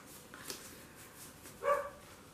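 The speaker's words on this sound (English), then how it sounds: "So sorry, my dog is barking up there." A dog shut in her kennel upstairs gives a single muffled bark from a distance, faint beneath quiet room tone.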